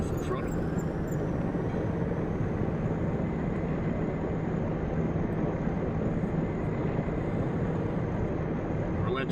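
A diesel railcar engine runs at full throttle in the Diesel Railcar Simulator game, giving a steady, loud, dense low drone with a faint whine above it that holds unbroken throughout, with no talk over it.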